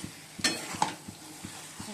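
Fish frying in oil in a pan: a quiet continuous sizzle broken by a few clinks and scrapes of a utensil against the pan, the louder knocks near the start, at fairly close range.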